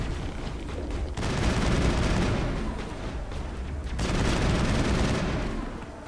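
Shotgun fire in the Mass Effect video game, two long bursts of loud, dense blasts with a brief lull between them, heavy and close with no talking over it.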